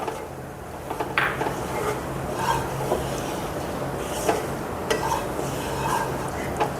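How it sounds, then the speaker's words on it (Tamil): Gram flour being stirred and fried in ghee in a pan, with steady scraping and soft clinks of a spoon against the pan, repeating irregularly over a low background hiss. "இந்த கடலை மாவை இந்த கீயில் வந்து நம்ம வந்து ஃப்ரை பண்ணணும்"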